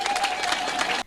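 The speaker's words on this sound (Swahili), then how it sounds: "Makofi." Brief burst of crowd applause, a dense patter of clapping hands that holds steady for about a second and then cuts off abruptly.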